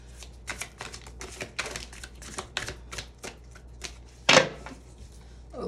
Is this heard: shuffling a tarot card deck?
yes